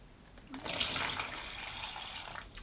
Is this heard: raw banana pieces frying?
no